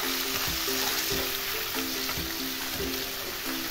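Tomatoes, crushed ginger and whole spices sizzle and fry steadily in a pan, a continuous close crackle with faint clinks of stirring throughout.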